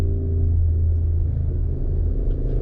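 A motorcycle rides nearby on an Arizona highway, heard as a continuous low rumbling engine drone mixed with road noise from inside a car.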